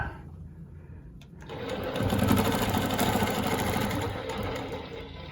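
An older longarm quilting machine begins stitching after a pause, its rapid needle chatter rising into a steady, close mechanical whir that runs continuously for a few seconds.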